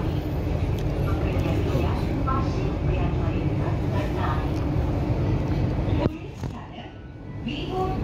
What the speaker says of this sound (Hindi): मेट्रो चाली